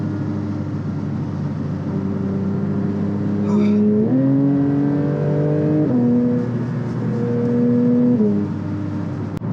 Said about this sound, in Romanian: Se și aude evacuarea de la 4RS.